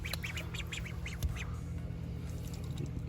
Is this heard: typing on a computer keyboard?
no